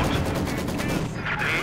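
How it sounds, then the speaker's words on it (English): Dense, rumbling battlefield fire from mortar rounds and gunfire in the Company of Heroes 2 strategy game, with continuous overlapping blasts, loud throughout. "Mortar rounds going in."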